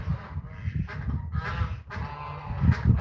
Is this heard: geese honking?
yes